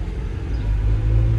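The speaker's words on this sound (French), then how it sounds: "il y a une SVJ qui vient aussi de sortir de la place du Casino" An orange Lamborghini Aventador SVJ pulls away from Casino Square in Monaco with a steady low engine rumble and rising revs, heard alone at a moderate distance.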